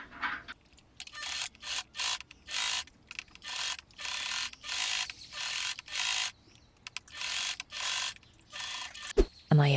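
A sewing machine top stitches a polar fleece zipped jacket, running in rapid mechanical bursts of about a second each separated by short pauses, close and steady, ending with a sharp knock.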